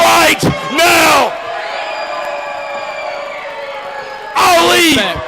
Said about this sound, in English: this crowd is not going to be quiet